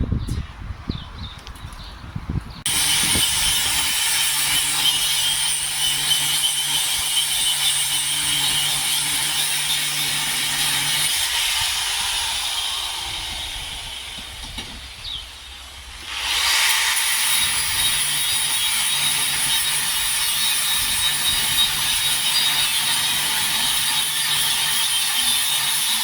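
An angle grinder works on part of a 1948 Chevrolet frame during a small-block engine swap, giving a loud, harsh, continuous metallic hiss that eases off briefly midway and then resumes at full intensity.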